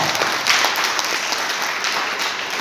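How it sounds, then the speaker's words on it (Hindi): A seminar audience gives a loud, dense burst of applause for themselves, continuous hand clapping that fills the room without a break. "एक जोरदार ताली अपने लिए बजा सकते हैं आप।"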